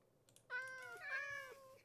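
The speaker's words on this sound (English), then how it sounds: "Come on, little kitties." Minecraft cats give two clear, close meows in quick succession, each a bright rising-falling cry, with faint clicking underneath and no talk.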